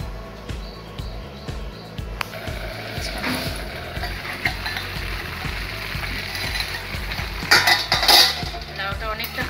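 Bottle gourd being stirred in a pan over a lowered gas flame, with repeated metallic scraping and clinking of a utensil against the pan at close range, louder toward the end.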